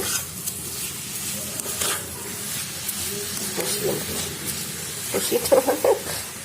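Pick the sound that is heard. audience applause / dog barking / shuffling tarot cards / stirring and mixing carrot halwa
stirring and mixing carrot halwa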